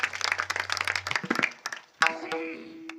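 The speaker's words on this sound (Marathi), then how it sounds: "एकदा जोरदार टाळ्या महाराजांसाठी." Audience at a kirtan about Chhatrapati Shivaji Maharaj breaks into a short burst of clapping after a voice, then fades into quieter sounds and another brief tonal sound near the end.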